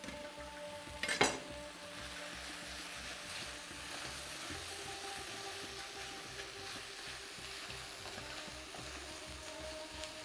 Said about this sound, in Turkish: Şimdi soğan, biber, et hepsi tencerenin içerisinde.